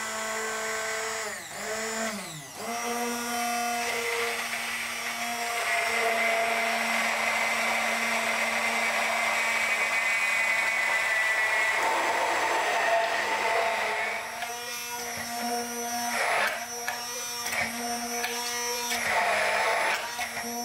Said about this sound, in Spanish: Batimos colocando el batidor en el fondo del vaso y emulsionando hacia arriba lentamente.